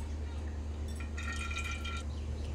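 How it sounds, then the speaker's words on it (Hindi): Cooking oil, 150 grams, is poured into a cooking pot while making mutton yakhni pulao, a short faint liquid trickle over a steady background hum. "अब भगोने में डालेंगे 150 ग्राम ऑयल।"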